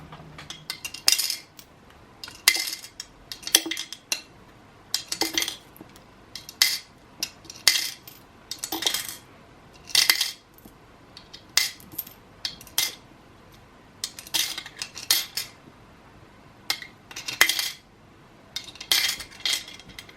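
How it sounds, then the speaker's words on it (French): Coins dropped one or a few at a time into a piggy bank as monthly savings, producing a long series of sharp metallic clinks and jingles in irregular bursts, close and fairly quiet, with no talking. "Je mets mes pièces dans ma tirelire."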